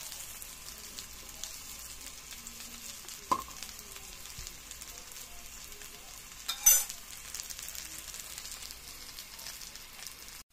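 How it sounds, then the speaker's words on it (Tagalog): Pork fat frying in a pan for pork lomi soup, a soft steady sizzle and crackle with a couple of sharper pops and scrapes of stirring, fairly quiet and with no talk. "pritong taba ng baboy"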